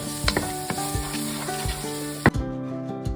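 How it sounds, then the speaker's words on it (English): Food sizzles steadily in a hot pan while a utensil scrapes and stirs it in repeated strokes, with a sharp louder clank near the end before the frying settles back to a continuous hiss. "Continue stirring."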